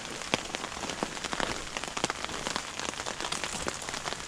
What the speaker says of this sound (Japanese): 雨がかなり強いんですよね。